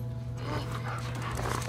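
A dog pants rapidly and breathily in The Last of Us Part 2, close and steady throughout the short stretch over a low game hum.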